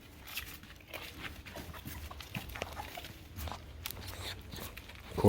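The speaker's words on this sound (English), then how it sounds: "She heard my voice, or probably heard the puppies." Indoors, a mother dog moves about with her three-week-old puppies, giving soft whimpers, snuffles and shuffling steps at low volume, irregular and close, with no talking.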